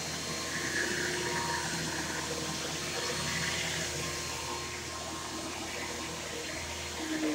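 A household vacuum cleaner, a Bissell or Dirt Devil, runs steadily with a continuous whooshing, whining drone that stays even throughout with no talk.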